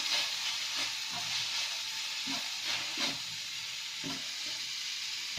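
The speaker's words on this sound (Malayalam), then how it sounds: "ഈ ലോ ഫ്ലെയിമിലാക്കിയാണ് നമ്മൾ മിക്സ് ചെയ്യുന്നത്" Soya bean fry being stirred in a pan on a low flame, with a steady soft sizzle and hiss broken by repeated gentle scrapes of the spoon, fairly close and unaccompanied by voices.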